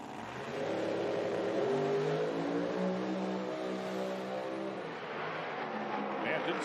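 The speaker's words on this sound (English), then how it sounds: "you can almost hear it hit the rev limiter out there" A nitro drag race car at an IHRA Outlaw Nitro Series Pro Am final, an injected fuel car, roars near its rev limiter. The engine drone is sustained and somewhat distant, rising and holding across the run.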